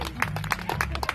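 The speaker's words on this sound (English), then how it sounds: "Come on, everybody, cheer her home." A crowd claps and cheers to urge a runner named Jamie home, the applause fairly faint and patchy in a short burst.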